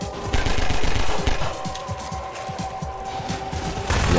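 Rapid machine gun fire in Half-Life 2 rattles on in dense, loud bursts for several seconds, then eases into scattered shots over a steady background hum before picking up again at the end.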